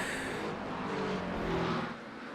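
GT3 race cars running through the Porsche curves in a 24-hour endurance race, a steady blended engine drone held at constant level throughout, dropping slightly near the end.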